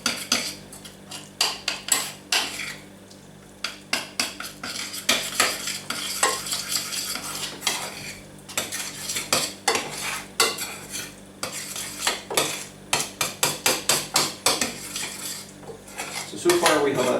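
A spoon stirs a thick tuna, cheese and milk mixture with flour in a bowl, giving rapid, close clinks and scrapes against the dish in uneven bursts with no voices.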